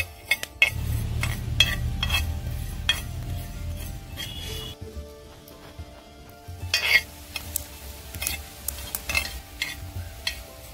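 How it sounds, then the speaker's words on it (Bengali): Cumin seeds dry-roasting on a hot griddle, giving a soft crackle and steady scraping as they are stirred, with repeated sharp metallic clinks of a spatula against the pan, close and alone with no voices. "জিরে চাটুতে দিয়ে দিয়েছি, এবার ভেজে নেব।"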